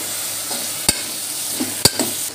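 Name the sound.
cut eggplant pieces frying and being stirred in a pan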